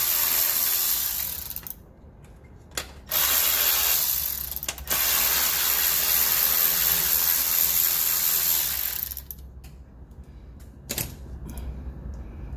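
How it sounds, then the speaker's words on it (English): Ratchet working a 10mm nut on a car wiring harness, long stretches of rapid clicking broken by brief pauses and sharp knocks, close and fairly loud. "10mm nut. To get the wiring harness off."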